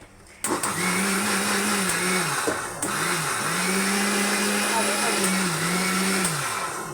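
A mixer grinder blends tomatoes into a paste, its loud motor whirring steadily at close range with slight pitch dips as the load shifts, briefly stopping and restarting partway through.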